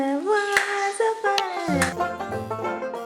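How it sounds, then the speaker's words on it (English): A few sharp hand claps land in time with a sung, melodic children's rhyme, close and clear, standing out as short snaps over the steady singing voice. "Clap, clap, clap."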